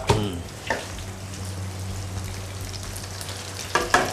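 Chicken tendons deep-frying in hot oil for a second round, with makrut lime and chili going in: a dense, steady close bubbling hiss, marked by sharp splatter bursts at the start and near the end.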